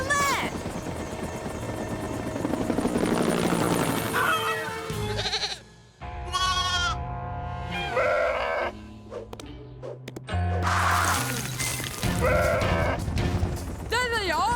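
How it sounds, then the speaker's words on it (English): Goats bleat in a cartoon farm scene, a mother goat and a baby goat, their wavering cries rising clearly between loud helicopter rotor noise and bursts of animated music and voices. "One chicken, one baby goat, and one mummy goat too!"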